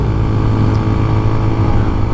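A CFMOTO Papio SS mini motorcycle's small engine drones steadily while riding, a loud, continuous low hum with wind rush and no pause.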